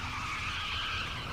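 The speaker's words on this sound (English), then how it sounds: "A fleet of Chevrolets attack a vintage saloon car in a marble foyer." Chevrolet cars skidding across a marble foyer in an art film, a continuous loud tire squeal with engine noise, close and sustained throughout.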